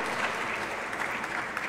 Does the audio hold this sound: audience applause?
yes